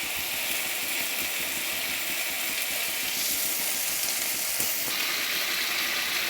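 Pointed gourd stirs and fries in a pan, a steady close sizzle with occasional scraping clicks from stirring, alone without talk.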